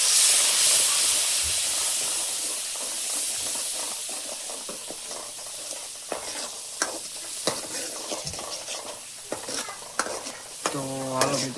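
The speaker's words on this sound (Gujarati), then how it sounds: "મરચું નાખી દીધું પછી આપણે 1 ચમચો પાણી નાખી દેવાનું છે." Turmeric and chili masala frying in a pan gives a bright, steady sizzle and hiss that slowly eases, broken by clinks and scrapes of a spoon stirring before a spoonful of water goes in.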